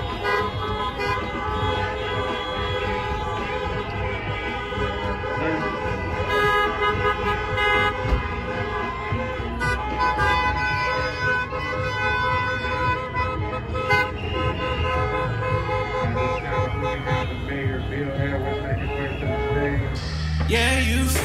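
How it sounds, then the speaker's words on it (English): Car horns toot and blare near and far at a Senate runoff rally in Atlanta, with honking layered over traffic noise and tonal hum throughout. "Honk your horn, we got the buses rolling up."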